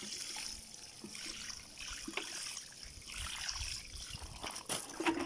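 Water trickles faintly while a variegated potted plant is watered, a soft, steady dribble with light splashes close by and no talking.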